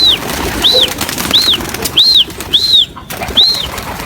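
Pigeons in a loft, with repeated wing flaps and rustling as the birds take off, close and fairly loud. Regular chirping tones run through the whole stretch.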